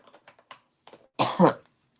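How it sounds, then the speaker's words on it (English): A single short cough from a crafter at a stamping table, sharp and near, following soft tapping and handling noises, with no talking. "I'm starting to have the coughing again."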